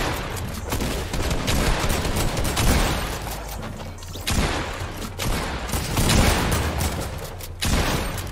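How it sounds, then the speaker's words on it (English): Dense, continuous bursts of Fortnite gunfire crackle without pause, loud and close, with overlapping shots and booms blending into a steady roar. "Just shoot him with the SMG."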